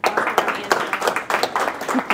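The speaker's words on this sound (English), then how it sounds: "can everyone please give another round of" Applause from a crowd, steady clapping with bursts of louder claps, lasting a couple of seconds.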